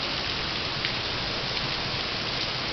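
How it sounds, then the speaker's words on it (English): Heavy rain from a tropical storm pours steadily, a dense constant hiss of drops on surfaces, loud and close, with no voices. "This is the hardest it's rained probably since 4 o'clock this morning."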